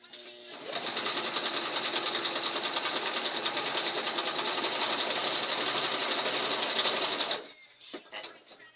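A sewing machine stitches through a quilt-as-you-go animal block in one steady run of about seven seconds, then stops as the fabric is pivoted, leaving faint handling noises.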